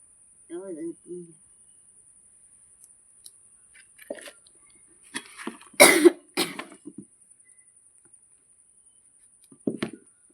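Someone sick with a fever coughs a few short, sharp times in a quiet room, with a brief voiced sound early on and a thin, steady insect chirr in the background.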